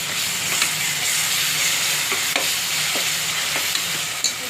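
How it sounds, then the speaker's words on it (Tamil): Ginger garlic paste fries in hot oil for a prawn biryani, giving a steady close sizzle with occasional spoon scrapes and stirring clicks throughout. "இஞ்சி பூண்டு விழுதை போட்டுக்கலாம்"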